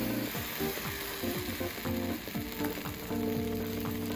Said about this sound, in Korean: 누룽지를 튀길 때는 기름이 약가우니까 한 국자 정도만 써서 기울여서 누룽지를 튀겨주시면 됩니다